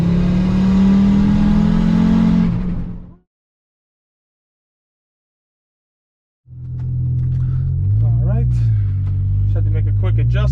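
An Audi UrS6 engine runs at wide open throttle in third gear, a loud close drone that cuts off into a few seconds of silence before the engine returns. A voice talks over the second stretch.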